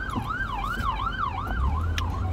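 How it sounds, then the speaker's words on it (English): An ambulance siren wails in a steady rising and falling pattern, loud and close, heard from inside a car it is following, over a low rumble of road noise. "The whole ambulance is behind me"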